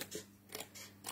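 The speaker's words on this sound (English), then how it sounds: "So I don't mind too much cutting out with scissors" Scissors snipping through paper cardstock while cutting out strips for a handmade card, three short crisp cuts spaced evenly apart, close and quiet in a still room.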